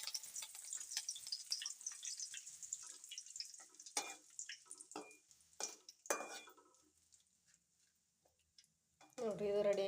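Curry leaves fry in oil on a low gas flame with quiet, scattered crackles and sizzling pops, a few louder spits and stirring sounds, then a voice speaks at the end.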